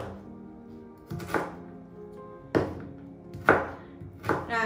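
Fresh ginger chopped with a knife on a cutting board, with several sharp, close thuds at a loose, uneven pace and quiet gaps between them, and no talking.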